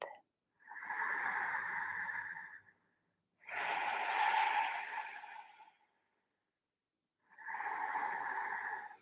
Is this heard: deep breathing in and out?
yes